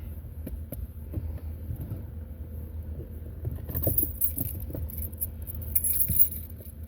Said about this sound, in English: Hold on, where my keys